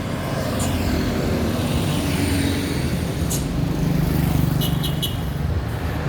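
A steady road roar of a bus rumbling past on a winding road, with constant low engine and tyre noise and a few brief high squeaks.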